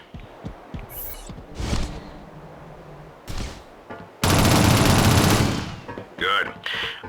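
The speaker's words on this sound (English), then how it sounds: "To eliminate a body, shoot it until it is destroyed." Gunfire in the 2007 video game Shadowrun as enemy bodies are shot, with scattered single shots, then a loud sustained burst of rapid automatic fire and more clattering shots, close and dominant, with occasional game speech.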